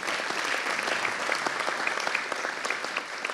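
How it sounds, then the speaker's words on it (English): Steady applause from an audience, dense overlapping claps filling the whole stretch at an even level before easing slightly at the end. "let's give her a round of applause for making it"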